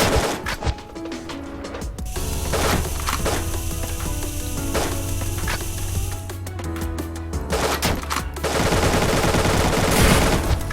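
An AK fires in rapid automatic bursts in the 2D action game Dungreed, with dense continuous gunfire layered over game music and other effects.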